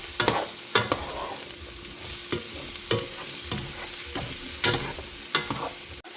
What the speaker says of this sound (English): Now we mix. And listen to that sizzle.